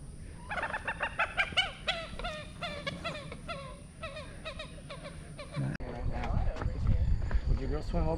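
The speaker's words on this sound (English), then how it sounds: "Got the birds out there, the ducks," At Brazos Bend, ducks and other waterbirds call in a quick run of loud, repeated honking quacks, close by, before rustling and handling noises take over.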